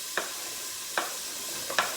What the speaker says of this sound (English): I want this to start frying as soon as it hits the pan. And you can hear it sizzling.